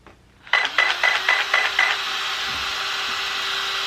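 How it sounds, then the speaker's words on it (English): Sharp clicks and small ratcheting taps as a servo arm is pressed onto the splined shaft of a HiTec 333 oz servo on a Traxxas Maxx 6s, about six quick clicks followed by a steady whine. "then you're going to put your servo arm on"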